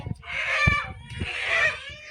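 A freshly caught chicken lets out two loud, harsh squawking clucks close by, with short rustling and handling noises between them.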